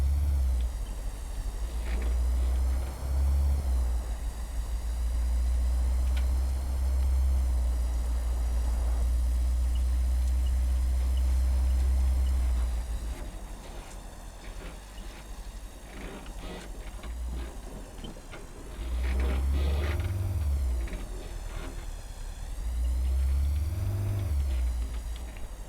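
A large truck's engine rumbles low and loud in Antistasi, surging and easing as it drives, with occasional thumps and clatter over the steady drone.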